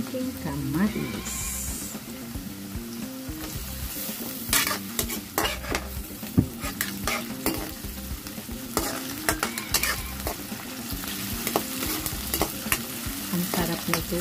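Tomatoes sautéing in a frying pan with garlic and onion base, a steady close sizzle with frequent stirring scrapes and utensil clicks running throughout, while someone talks over it.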